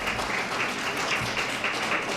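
Round of applause from an audience at a women's honors event, a dense, steady wash of clapping at moderate level with no break.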